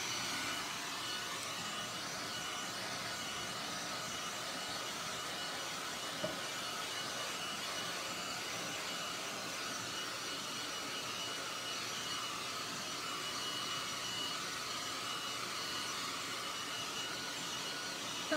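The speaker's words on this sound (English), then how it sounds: "I'm gonna get the dryer out one more time." A hair dryer blows steadily while drying a coat of wood stain on a nightstand top, producing a faint, constant whooshing hiss that runs without break and without voices.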